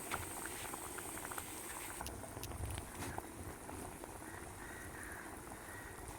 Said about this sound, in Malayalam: അങ്ങനെ കറി നല്ലതുപോലെ തിളയ്ക്കാൻ തുടങ്ങി.